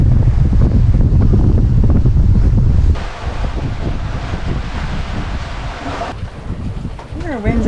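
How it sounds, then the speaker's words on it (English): Strong wind buffets the microphone aboard a sailboat at sea, loud gusty roar for the first few seconds, then easing to a softer wash of wind and water with a voice speaking briefly near the end. "Our wind's actually picking up again."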